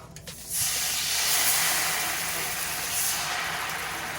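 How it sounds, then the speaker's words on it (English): Dry white cooking wine hits a pan of melted butter for shrimp scampi, bursting after a quiet half-second into a loud, close, steady hissing sizzle that holds evenly to the end with no talking. "We're going to add your white cooking wine, make sure it's dry wine."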